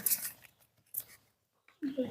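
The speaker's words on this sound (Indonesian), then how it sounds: "Gunting." Scissors snipping paper in a classroom, a few short crisp cuts with pauses between them, and children and a teacher talking nearby.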